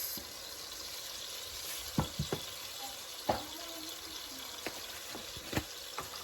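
Minced meat frying in a pot with a steady sizzle, broken by several sharp scraping knocks as a spoon stirs it, close and fairly quiet.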